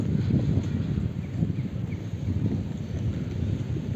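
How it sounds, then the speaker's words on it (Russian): Steady low wind buffets the microphone in uneven gusts, with no voices. "Хорошо, хоть еще ветерок сегодня есть."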